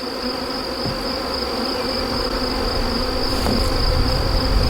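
Honeybees buzzing around an open beehive during a first hive setup, a dense steady drone close by that swells slightly louder toward the end, with no talking.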